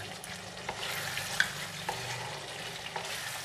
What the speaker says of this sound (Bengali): ভালো করে কষিয়ে নিতে হবে দেখুন আমি সুন্দরভাবে কষিয়ে নিয়েছি